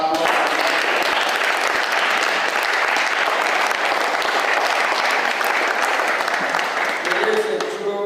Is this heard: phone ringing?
no